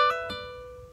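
On acoustic guitar, a single plucked note with a quick little-finger hammer-on and slur rings out clearly and decays over about a second, near and alone.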